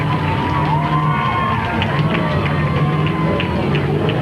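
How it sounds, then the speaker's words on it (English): Crowd at Midvale Speedway in 1995 cheering and shouting steadily, a continuous roar of voices with some whoops over a loud public-address hum, no distinct clapping breaking through. "I want to big round applause for Mike Gillis."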